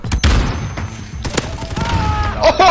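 Desert Eagle pistol shots in Call of Duty: Modern Warfare, a few loud booming cracks up close among other battle noise.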